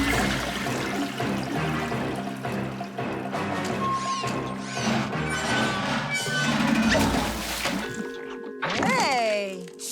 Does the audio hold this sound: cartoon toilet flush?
yes